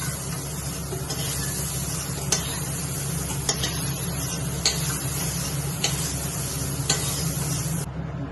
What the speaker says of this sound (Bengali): সয়াবিনটা ভাজা হয়ে গেছে,